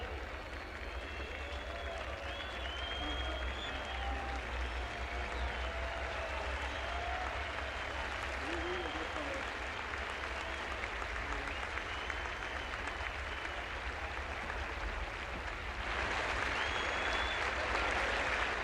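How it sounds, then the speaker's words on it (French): A tennis crowd at the 1969 Roland Garros final trophy ceremony applauds steadily for the whole stretch, a dense wash of clapping with some whistling mixed in, swelling slightly near the end. "Cependant qu'une partie du public siffle, l'autre applaudit."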